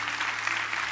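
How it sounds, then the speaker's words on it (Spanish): Brief burst of congregation applause during a church sermon, dense steady clapping from many hands, moderately loud and sustained with no speech over it. "Denle un fuerte aplauso al Rey por eso."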